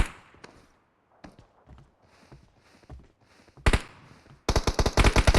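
Bursts of gunfire in a first-person shooter video game: scattered single shots early on, then a loud burst and a rapid automatic volley of closely spaced cracks toward the end, with no talking.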